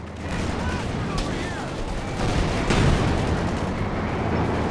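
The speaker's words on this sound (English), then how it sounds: "The artillery dropped on the AT gun, a little bit slow to react" Artillery shells landing on an anti-tank gun in Company of Heroes 2, heavy booming impacts and crackling gunfire blended into a dense roar of battlefield noise, with a louder blast swelling near the middle.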